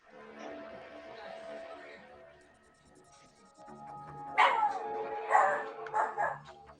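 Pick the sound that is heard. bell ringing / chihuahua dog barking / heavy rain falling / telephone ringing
chihuahua dog barking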